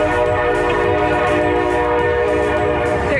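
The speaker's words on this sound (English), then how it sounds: "There is a train track nearby." A train passes on a nearby track, its horn sounding a loud, sustained chord over the rumble of the rail cars, with no talking.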